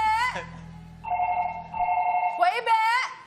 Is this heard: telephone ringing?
yes